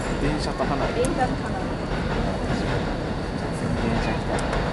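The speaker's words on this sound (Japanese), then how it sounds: "電車来た。" A JR Joban Line train rumbles past at close range during a fireworks festival evening in Tsuchiura, a continuous loud rolling roar with faint rail clatter throughout.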